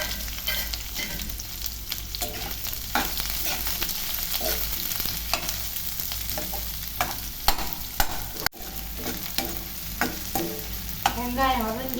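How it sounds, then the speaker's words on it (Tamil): Chopped onion sizzles and fries in a pan with mustard seeds, cumin and curry leaves for a ridge gourd thokku, a steady close sizzle with intermittent stirring scrapes throughout, no talking. "இப்போ அதில் ஒரு பெரிய சைஸு வெங்காயம் வெட்டி போட்டுக்கலாம்"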